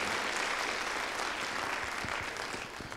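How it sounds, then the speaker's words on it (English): An audience at an evening oratorical competition applauds, a dense, steady wash of many hands clapping that fades slightly toward the end. "Can I get one more round of applause for everybody participating?"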